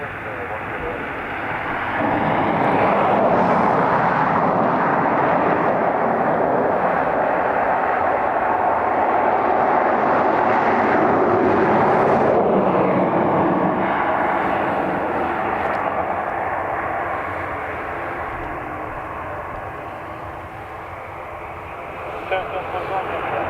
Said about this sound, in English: Ryanair arriving early to take off